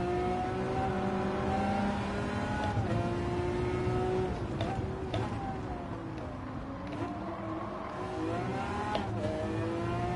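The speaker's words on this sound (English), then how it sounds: "I love to drive a Lamborghini" A Lamborghini engine driven from the cockpit view in Gran Turismo 7, humming steadily with rising and falling revs and a few quick gear-change dips, running continuously and fairly close throughout.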